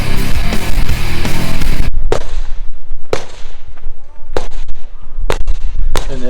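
Pistol shots on a practical shooting competition stage in Finland, a rapid string of sharp, loud cracks spaced about a second apart after a stretch of dense noise and voices.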